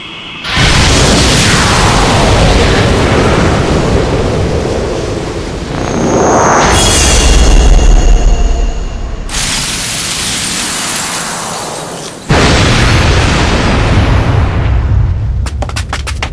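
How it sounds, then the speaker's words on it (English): In the Genji: Days of the Blade video game, a spell shatters a force field in a long run of loud booming blasts and rushing, roaring surges, with abrupt shifts and a final crackling burst. "let the spell be broken and the force field destroyed"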